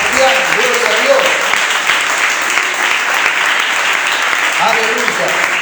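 A church congregation applauds praising God, loud sustained clapping filling the room, with faint voices and cheers rising through it at the start and again near the end.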